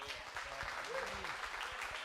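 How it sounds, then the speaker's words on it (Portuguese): A church congregation applauds in steady, dense clapping at moderate distance, with voices speaking over the applause. "Dá um aplauso ao Senhor."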